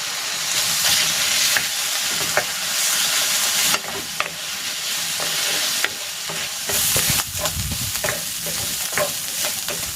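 Chicken for fried rice fries in a pan with a loud, steady sizzle, broken by occasional stirring clinks and shifts in the hiss as the pieces are moved.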